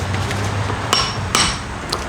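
Three sharp metallic hammer strikes ring out close and spaced apart as greased control arm bushings are driven into a BMW E30 subframe, over a low workshop hum.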